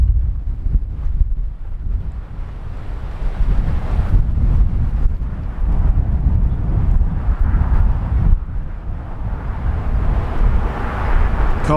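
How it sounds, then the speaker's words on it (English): Strong wind roars and buffets the microphone in continuous, heavy gusts outdoors on a back road along Route 66 in New Mexico, loud and rumbling throughout with no voices. "Gusting pretty hard today."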